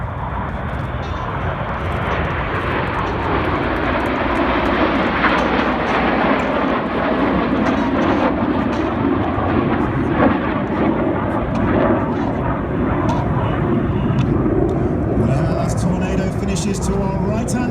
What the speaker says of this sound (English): Red 1 about to bank the aircraft to the left, changing smoke colour as they go.